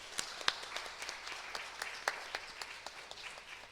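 Scattered hand clapping from a church congregation at a Nepali Bible felicitation program, quiet and somewhat distant, with sparse individual claps standing out over a soft steady patter.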